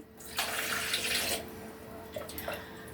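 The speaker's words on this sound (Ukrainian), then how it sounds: "І заливаємо холодною водою." Cold water pours from a tap over cucumbers in a jar for Polish-style pickling, a loud steady gush for about a second, then quieter trickling and splashes, close by.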